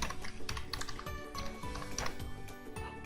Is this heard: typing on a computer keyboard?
yes